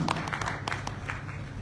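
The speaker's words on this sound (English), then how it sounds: "let's welcome on stage with a round of applause Professor Ajit K." An audience claps to welcome a professor onto a stage at an event, the applause dense and steady but fairly soft and distant, with scattered sharper claps standing out and a faint murmur underneath.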